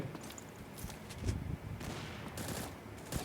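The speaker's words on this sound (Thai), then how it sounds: "เฮ้ยมีการยิงกัน" Bursts of rapid gunfire in the shooting game X-Shot Bullet Angel, with several clustered volleys crackling at moderate loudness and no voices over them.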